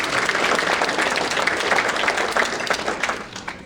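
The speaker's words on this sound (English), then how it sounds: "please, round of applause for Dick Lee first" Audience applause at an awards night, a dense wash of clapping from a crowd, loud and sustained throughout.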